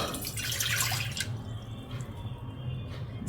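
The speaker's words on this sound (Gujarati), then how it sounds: "તપેલીમાં પાણી એડ કરો." Water poured into a cooking pot for Gujarati laapsi, a broad splashing rush that is loudest at first, then settles into a quieter steady trickle with a low hum beneath, no voices.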